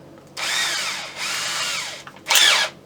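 A power drill whirs in three bursts, its pitch rising and falling as it bites into wood and metal, with short pauses between, pinning the barrel and ramrod pipes on a flintlock rifle kit.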